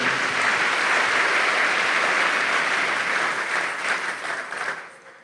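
A church congregation applauding, dense, sustained clapping from many hands that holds strong and then thins and fades out toward the end.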